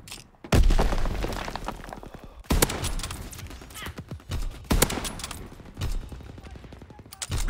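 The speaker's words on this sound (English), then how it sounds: "Flak battery in position." Anti-aircraft flak battery firing in the WW2 game Call of Duty, a series of loud, sharp blasts that each echo and decay, with rapid bursts of fire in between.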